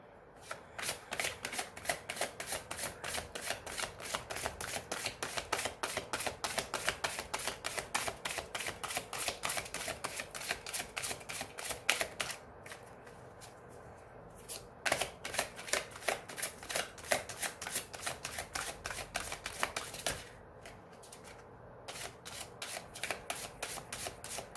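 Tarot cards are shuffled continuously in rapid riffling bursts, close and crisp, with a couple of brief pauses between rounds of shuffling.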